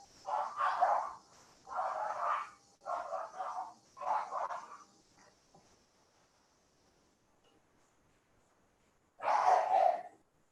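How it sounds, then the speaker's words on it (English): A neighbor's dog barks in short bursts, four rapid volleys close together and then one more after a pause, loud and fairly near in an otherwise quiet room during a guided meditation with no voices over it. "Neighbor's dog"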